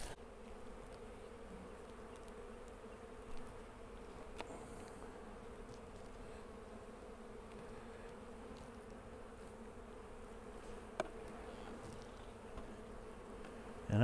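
Honey bees drone steadily around a crowded hive stacked with honey supers, a constant close buzz with a few individual bees zipping past.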